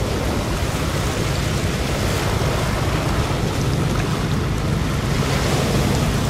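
Large radio-controlled model boat, about 11–12 metres long and over 3 metres wide, racing across open water at full throttle, a loud continuous rush of spray and wind with a steady engine drone underneath.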